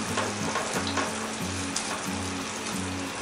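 Dhaba-style dal makhani gravy, just dusted with chaat masala, simmers and sizzles in a pan while being stirred, with soft scraping strokes repeating every half-second or so over a steady low bubbling hiss.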